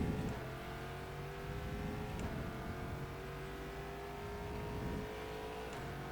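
An endurance race car in rFactor 2 pulls away on its first lap, engine droning steadily with rising pitch through the gears and a couple of brief shift breaks, loud and close with no voices.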